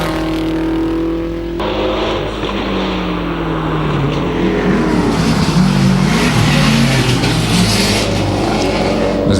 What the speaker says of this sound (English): And the WRX making his way to the top of the mountain.